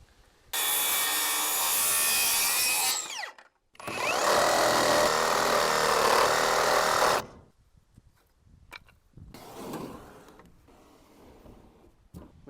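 Wood being cut across to a set depth during a 16x28 greenhouse build, heard as two loud, close, sustained bursts of cutting noise of about three seconds each with a short gap between them, followed by quieter shuffling and handling sounds.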